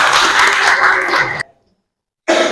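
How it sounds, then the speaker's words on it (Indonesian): A class claps for a student group, brief dense applause from a roomful of students that cuts off abruptly into silence before the noise returns. "Kita berikan aplaus untuk kelompok"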